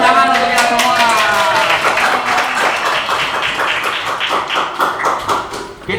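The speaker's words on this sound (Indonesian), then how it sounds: "Tepuk tangan untuk kita semua." Students in a junior high classroom at SMPN 5 Bogor clap together. The claps are loud, close and evenly rhythmic, then gradually fade slightly toward the end, with some voices mixed in.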